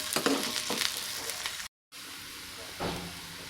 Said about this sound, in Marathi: कांदा याला छान परतून घ्यायचं आहे थोडा हिंग घालायचा आहे कांदा वाफत आला